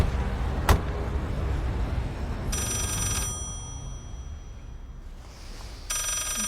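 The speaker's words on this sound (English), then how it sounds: "Joey, the telephone's ringing." An old-style telephone bell rings at night in an indoor setting, two bursts of ringing about three seconds apart over a low background rumble, with a sharp knock just before the first ring.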